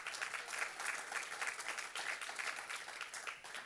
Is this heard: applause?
yes